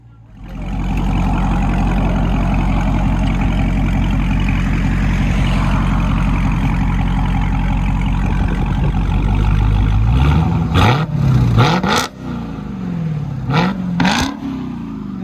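Stock 2021 Dodge Charger Hellcat Redeye V8 holding a loud, steady high rev with deep exhaust roar, then dropping and blipping the throttle in a few sharp revs near the end, close by.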